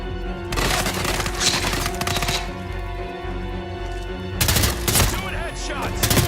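Gunfire in the Hitman 3 video game, bursts of rapid shots and booming impacts over a continuous game backdrop, loud and close, with faint voice in places.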